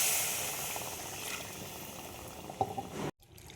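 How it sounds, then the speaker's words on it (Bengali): Water poured into a pan of cooked-down masala for a cut rohu fish curry, a steady hissing, bubbling sizzle close by that runs on for about three seconds before cutting off abruptly. "দেখো মশলাটা আমার কষানো হয়ে গেছে, এবার আমি দিয়ে দেবো জল।"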